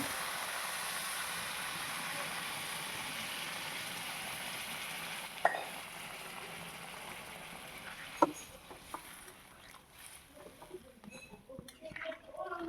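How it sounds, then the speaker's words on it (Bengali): Hot water poured into a pan of frying muri ghonto, a Bengali fish-head and rice dish, produces a broad, steady hiss that slowly fades, broken by a couple of sharp utensil knocks near the end. "এখন আমি রসা দিব, এই যে গরম জল করে রাখছি।"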